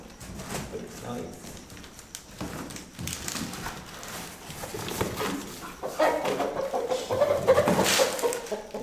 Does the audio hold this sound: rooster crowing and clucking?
yes